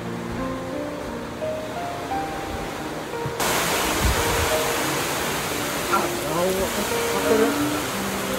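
Heavy typhoon rain pours down as a dense, steady roar that suddenly grows louder partway through and then stays constant, with faint voices underneath.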